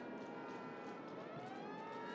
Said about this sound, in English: The city sirens.